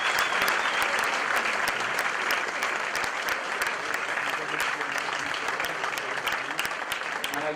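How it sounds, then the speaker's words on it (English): A crowd applauds the drivers at the Kart World Championship 2023 finals ceremony, with dense, steady clapping sustained at even loudness throughout. "Big round of applause for all of you."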